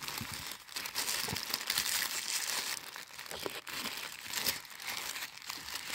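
Tissue paper sealed with a sticker is unwrapped from a craft shop package, giving close, continuous crinkling and rustling with brief pauses and sharper crackles, no voices.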